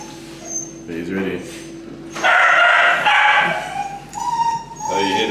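A large dog barks in a few loud, close bursts and yips, while people talk and react excitedly around it.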